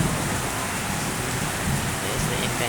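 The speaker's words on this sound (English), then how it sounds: "It's raining" Steady rain falls on a rainy day as a dense, even hiss that holds without a break, with no voices over it.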